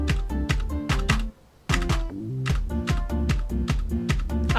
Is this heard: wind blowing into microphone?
no